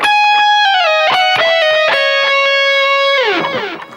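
Distorted electric guitar plays a lead melody phrase, quick picked notes and slurs, then a long bend sliding down at the end, loud and sustained with no voices.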